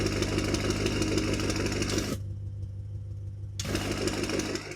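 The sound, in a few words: BMW F90 M5 Competition idling with valved titanium exhaust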